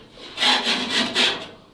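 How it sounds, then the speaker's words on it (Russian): A Pro tank cleaner tool working inside the fuel tank of a ZIL-4975: loud, close rasping scrapes in four rhythmic strokes, like rubbing or filing on a surface, with no voices. "Очиститель бака Pro."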